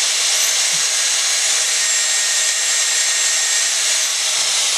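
A Dyson Airwrap hair styler running, a loud, steady, vacuum-like whoosh of airflow with a constant high whine, close and unbroken, with no talk over it.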